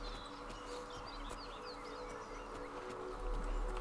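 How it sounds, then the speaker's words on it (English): Ambient birdsong in The Elder Scrolls IV: Oblivion, scattered chirps and tweets over a steady outdoor game background, moderately quiet and continuous with no talking. "lots of pretty ambient noises and stuff, too. Like the birds and stuff."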